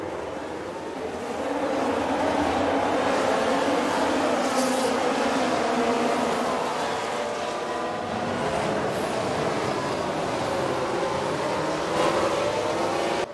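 A dense pack of Formula 1 race cars in the video game F1 Manager 2022 roars away from the start of the Bahrain Grand Prix, a steady loud engine drone.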